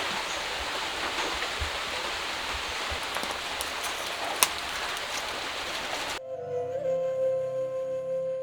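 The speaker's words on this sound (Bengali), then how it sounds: "এদিকে বৃষ্টিও চলে আসে এখন তো বর্ষাকাল প্রায় বৃষ্টি হয়" Steady monsoon rain pours down in a rural village, a dense hissing patter heard close and continuous, before it cuts abruptly to a quieter tonal background near the end.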